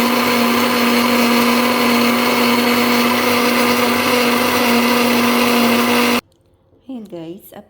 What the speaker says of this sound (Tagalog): Then, we're gonna blend with some olive oil.